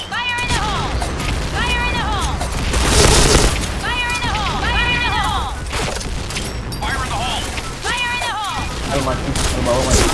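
Shooter video game battle with rapid, crackling gunfire and a heavy grenade explosion swelling loudest near the middle, all close and continuous, while voices talk throughout over the combat.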